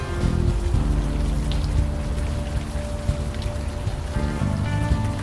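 Steady rain falls in the Unavowed video game, a constant dense patter with a low rumbling bed and faint music-like tones underneath, continuous throughout without talk.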